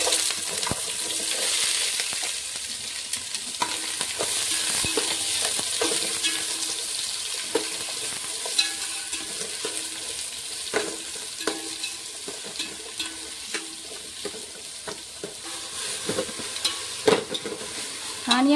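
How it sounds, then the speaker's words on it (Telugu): Chopped onions and green chillies frying in hot oil with whole biryani spices for Telangana-style chicken biryani, a steady close sizzle with repeated sharp scrapes and knocks of a spoon stirring, no talking. "ఇవి ఆనియన్స్ గోల్డెన్ బ్రౌన్ కలర్ వచ్చేంత వరకు వేయించాలండి"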